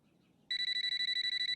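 An electronic telephone rings in a Telugu film scene: after a half-second of near quiet, a loud, rapid, pulsing trill starts and repeats steadily.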